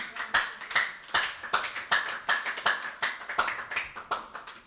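A congregation claps in praise of Jesus, about a dozen sharp, evenly spaced hand claps in a steady rhythm, close and moderately loud, with no talking.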